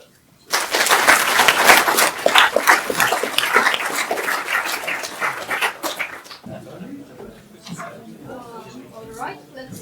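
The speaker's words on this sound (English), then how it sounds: "a round of applause for them" A symposium audience applauds speakers with dense, crackling clapping for several seconds, then it fades as a voice starts speaking.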